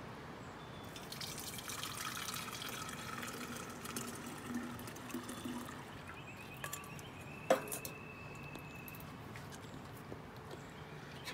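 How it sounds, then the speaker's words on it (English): Tiger nut horchata, a frothy Valencian drink, is poured through a strainer into a pitcher, giving a steady running-liquid wash with light trickles and a few sharp drips, close and moderately quiet throughout. "pour this through a strainer to get all the fiber out"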